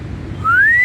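A person whistles to call turkeys: a single rising whistle tone that starts partway through and climbs steadily, loud and close over low background rumble.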